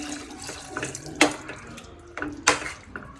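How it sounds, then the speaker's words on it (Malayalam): Two glasses of water being poured into a pot for a beef liver dish: a steady watery rush with two sharp splashing surges, close and fairly loud, with no talking. "അതിൽ രണ്ട് ഗ്ലാസ് വെള്ളം അതിനെ ഒഴിക്കാൻ പോവാണ്"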